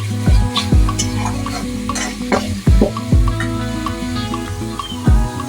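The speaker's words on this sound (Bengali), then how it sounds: "দেখতেই পাচ্ছেন মশলাটা অলরেডি কষানো হয়ে আসছে খুব সুন্দর করে" Spice masala is stir-fried in a pan, with loud, close spatula scrapes and knocks recurring every second or so over a constant frying sizzle; no voices are heard.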